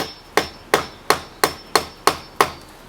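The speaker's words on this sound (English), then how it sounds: "Take a hammer and go right into the grout." A hammer taps into the brick grout of a painted brick chimney, seven sharp, evenly spaced strikes about a third of a second apart. The blows are close and loud, with no talking.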